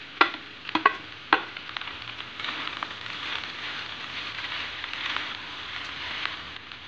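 An egg sizzles as it is fried and stirred into rice in a pan, a few sharp scraping clacks near the start followed by continuous close frying hiss and crackle.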